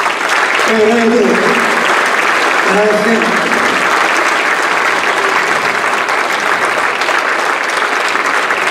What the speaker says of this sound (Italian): le chiedo un ulteriore battimani